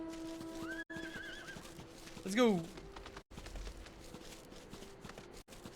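A horse in the video game Final Fantasy 14 gives one loud whinny in the middle of the clip, with a steady hoof clip-clop and game music running underneath while a voice speaks briefly.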